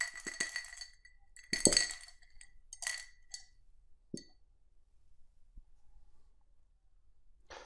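Two pens dropped into a glass, giving several bright clinks and taps spread over a few seconds, close and fairly quiet with pauses between them.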